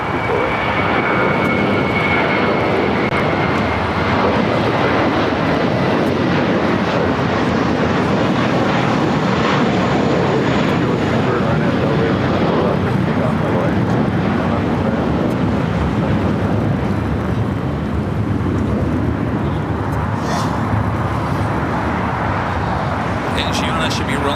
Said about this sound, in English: Next takeoff here on the south side is American Airlines Flight 496 heading to Phoenix in A321